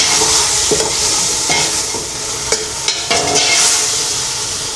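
A large pot of chicken sopas, made in quantity for a whole barangay, is stirred with soft repeated scrapes and knocks over a steady simmering hiss, close and fairly loud, with no voices.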